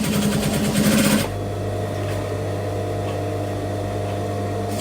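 A sewing machine stitches along the very edge of fabric with a 90 needle, strong thread in the bobbin and stitch length set to 4. It runs at an even, rapid whir for just over a second, then stops, leaving a low steady hum.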